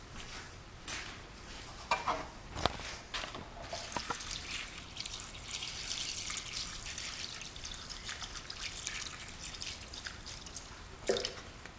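Water filling a container of broken clay mohr pieces set to soak, a quiet, continuous splashing trickle close by with scattered drips and small knocks, no voices present.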